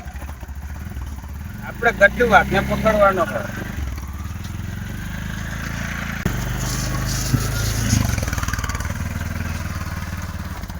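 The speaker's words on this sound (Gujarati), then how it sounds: "આ તો વાહન નો અવાજ છે" An auto-rickshaw engine runs steadily at a low rumble throughout, while a person speaks briefly over it early on.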